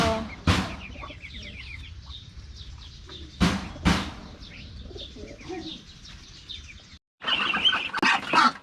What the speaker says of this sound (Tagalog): ililipat na yung mga pato na malalaki